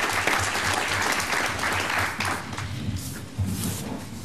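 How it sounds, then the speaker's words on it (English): Audience applause at a Dayton Public Schools Teacher of the Year ceremony: steady, dense clapping from a room full of people that holds level throughout with a few brighter swells, no voices over it. "So we're going to go ahead and give another applause to you"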